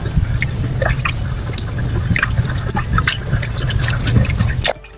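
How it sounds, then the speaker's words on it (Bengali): Egg is whisked by hand into cold milk in a bowl for vanilla custard, giving a busy run of wet clinks, drips and sloshing that stops abruptly near the end. "আমি ডিমটা ভালো করে মিশিয়ে নিচ্ছি।"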